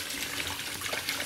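Water runs from a slightly tilted tap into a tub, a steady splashing gush heard up close and alone, without talk.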